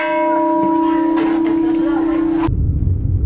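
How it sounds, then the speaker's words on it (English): A single bell at a wishing well is struck loudly nearby and rings with a long sustained tone, then is abruptly cut off, leaving low background rumble. "and every time you do you get to ding the bell."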